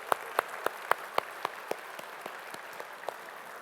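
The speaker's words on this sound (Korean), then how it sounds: "우리 찬양을 받으실 주님께 영광의 박수 올려드리겠습니다." A church congregation claps slowly and sparsely, each separate clap fading over a few seconds, moderately distant in a large room, with no speech over it.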